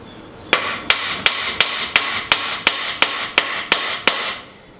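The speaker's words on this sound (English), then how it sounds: "a few whacks with a hammer helps" Eleven sharp, evenly spaced hammer strikes ring out on a metal lawn mower blade, each a bright clang with a brief decay, loud and close with nothing else around.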